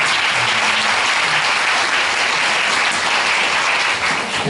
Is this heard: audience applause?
yes